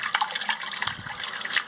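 Water rushes into a leaking bathroom toilet cistern through its float valve, a steady broadband hiss and splash with brief low gurgles midway, fairly close and continuous, with no talking.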